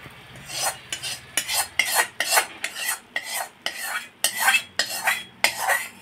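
A spoon repeatedly scrapes and tosses hot tempering with red chilli and turmeric through a crisp mixed chivda snack in a bowl, making a brisk, rhythmic series of close, crunchy rustling strokes.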